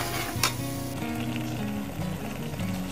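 Ground blended spices hit a hot pan for a hilsa fish curry, giving a steady sizzling fry with a brief sharp spatter early on.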